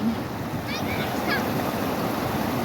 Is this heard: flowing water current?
yes